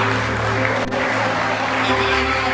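A church congregation claps together in a sustained burst of applause, dense and even, with a steady hum underneath.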